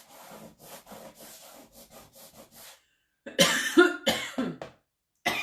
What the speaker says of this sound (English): I'm just using my paste scraper and cleaning off my board here